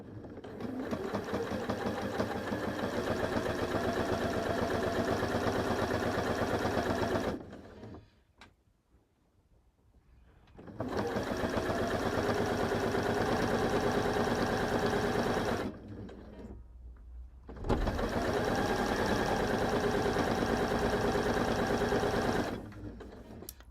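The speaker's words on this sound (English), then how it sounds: "So I'm just going to sew that other handle." A sewing machine stitches a Morsbag fabric handle in three long, steady runs of fast mechanical whirring, broken by two short pauses where the motor stops.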